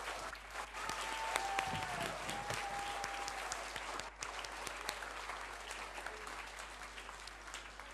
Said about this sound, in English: And I think they deserve another really big clap from all of you.